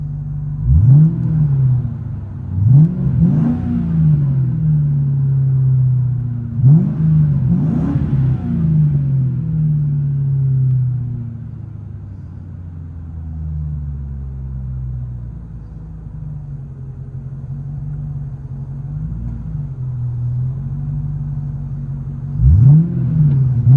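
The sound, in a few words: 1997 Ford Mustang GT V8 engine heard from inside the car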